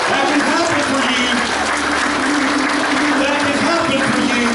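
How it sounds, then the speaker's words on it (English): A church congregation bursts into sustained applause and clapping as praise, a dense, steady wash of many hands that stays loud and even throughout. "Somebody give God a hand clap of praise."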